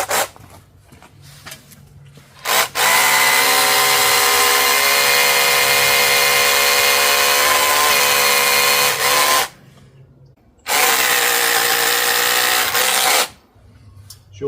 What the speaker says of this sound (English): Dad has just bought me a new drill, cordless hammer, so this should make light work of it.